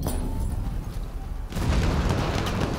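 An anti-tank weapon fires in Battlefield 1 with a single sudden, loud blast about halfway through, followed by a sustained rumbling wash over the ongoing battle noise.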